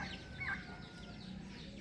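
A chicken clucks among other farmyard fowl, including turkeys, with steady outdoor background noise and no talking.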